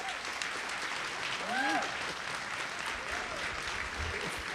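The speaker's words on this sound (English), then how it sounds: "I'd like you to give another round of applause to your Brooklyn Borough President, Eric Ada" Audience applause fills a Women's History Month celebration at Brooklyn Borough Hall, steady clapping throughout, with brief voices rising over it midway.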